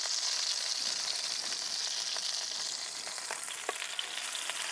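Chicken shahi kabab sizzles steadily as it fries in a pan over medium heat, a dense continuous crackle with a few small pops and spits, close and unbroken with no talking.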